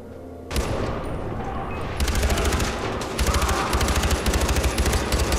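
Bursts of automatic gunfire in a Far Cry 4 battle, rapid rattling volleys starting after a brief quiet moment and continuing loudly with repeated fast strings of shots and dense booming underneath.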